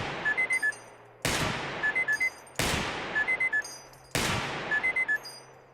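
Three loud, sharp gunshots at evenly spaced intervals in the shooting video game Receiver 2, each with a long decaying tail, with short electronic beeping tones between the shots.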